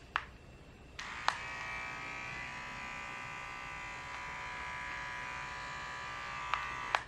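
A Nevia kids electric hair clipper runs with a steady, fairly quiet motor buzz, switched on near the start, with a few sharp clicks as it is handled and switched off at the end; no one speaks.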